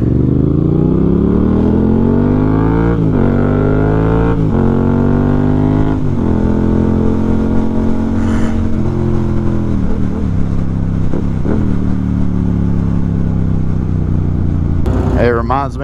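A Yamaha MT-07 motorcycle with a newly installed exhaust revs loud and close, its deep engine note rising and falling through repeated throttle blips. Voices are heard near the end.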